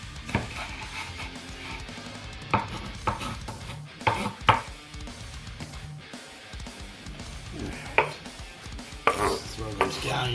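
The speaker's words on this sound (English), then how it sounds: "we're gonna go ahead and chop this up for" Scallions being chopped on a cutting board as a garnish for Asian garlic noodles, giving a run of sharp, close knife knocks in irregular bursts alongside soft kitchen clatter.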